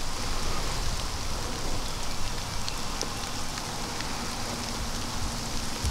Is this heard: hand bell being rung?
no